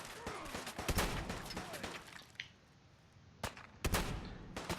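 A shotgun in Fallout 4 fires several sharp, loud blasts in two clusters with a quiet gap between them.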